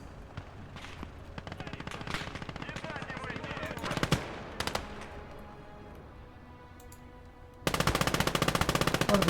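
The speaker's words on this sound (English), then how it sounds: "Dushka machine gun there." DShK heavy machine gun firing in a war video game battle, repeated rapid bursts of distant rattling fire, then a louder, closer sustained burst at the end, with some talk.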